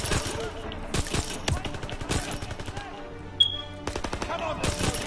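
Video game gunfire comes in bursts of rapid automatic shots separated by short quiet gaps, loud and close, with a single sharp sound near the middle and voices in between.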